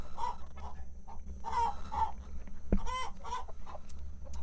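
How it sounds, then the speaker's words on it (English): Chickens cluck steadily and close by in a temporary chicken area on a self-sufficiency homestead, with overlapping calls and no talk. "this is a temporary chicken area"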